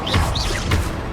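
A Confringo blasting spell in Hogwarts Legacy sounds as a quick, loud crackling blast with whooshing sweeps, two bursts in close succession over a dense roar of game combat.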